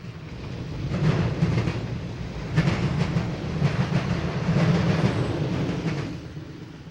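A Conrail-era freight train rolls past at Berea, Ohio, a loud, steady rumble with rhythmic wheel clatter over rail joints, swelling and easing as the cars pass close by, with no voices.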